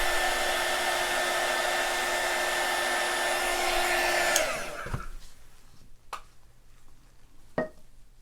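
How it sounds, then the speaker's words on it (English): Air blower pushing air over a resin Christmas ornament, a steady loud whooshing roar for about four seconds that cuts off abruptly, followed by a few light clicks and knocks. "I'm just going to use the blower"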